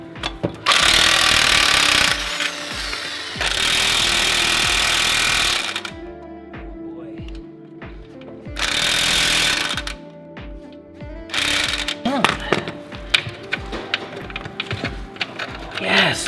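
A power tool works on the jam nut of a rear control arm on a Lexus IS300, loud buzzing bursts of a few seconds alternating with pauses, followed by clanks and tapping of tools on metal.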